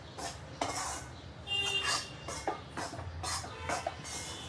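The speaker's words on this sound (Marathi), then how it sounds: "फक्त तुपात त्याला हलवायचं" Chana dal flour roasted in ghee is stirred in a pan, giving repeated scraping, clinking strokes of a utensil against the pot with a soft sizzle underneath, steady and close, no talking.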